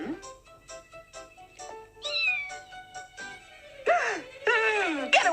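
A cat in a kitchen meows repeatedly, a series of short calls followed by longer wailing, drawn-out yowls, close and clear with no talking over it.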